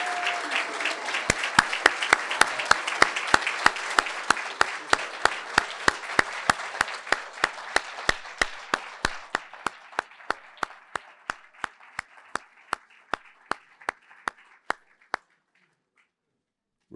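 Audience applause at an awards ceremony honouring a brain injury carer, starting as a dense crowd clap, then thinning over about fifteen seconds to a few scattered individual claps before stopping.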